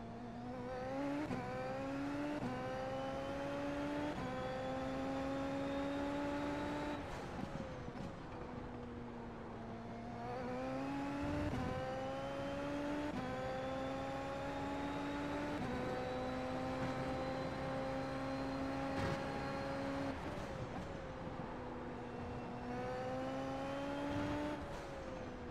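A Super Formula race car engine in a racing video game screams steadily at high revs, rising and falling through gear changes for the whole stretch, loud and close with no talk.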